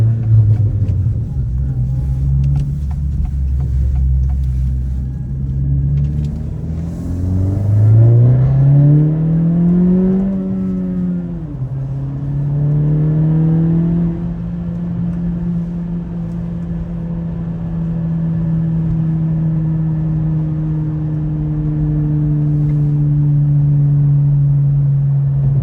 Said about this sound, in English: you guys can hear that Remark exhaust sound